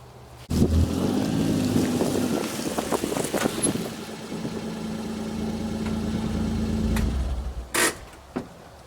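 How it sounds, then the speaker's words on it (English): Low, steady rumble of wind buffeting the microphone outdoors, continuous for most of the clip, with a couple of brief bumps near the end. "A little windy out today, you guys will hear some camera noise."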